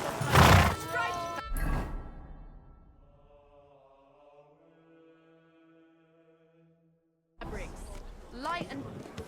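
A horse in Kingdom Come: Deliverance II gives a drawn-out, wavering whinny that fades away between bursts of nearby talking at the start and end.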